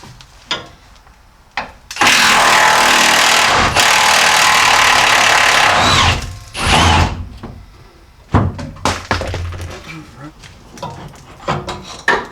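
An impact wrench works a rear shock bolt loose on a Dodge Ram during a Bilstein 5100 shock swap, with a loud, continuous rattling hammer burst lasting several seconds, then shorter bursts and clanks close by.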